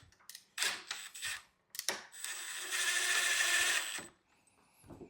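A power drill drives screws into a door lock during a key lock change, whirring in short close bursts followed by one longer sustained run.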